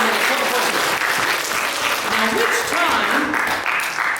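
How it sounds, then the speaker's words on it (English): A school chapel audience of children and staff gives a big round of applause, with steady dense clapping throughout while voices talk over it. "Give her a big round of applause."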